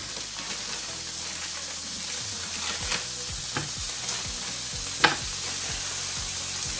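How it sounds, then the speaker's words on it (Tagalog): Crispy bacon fries in a pan with a steady, continuous sizzle and occasional crackles and pops, close and alone without talk. "Here's the bacon, guys. Kasi ano lang natin. Lulutuin natin ito."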